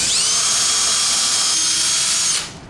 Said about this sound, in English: There's the hole pre-drilled.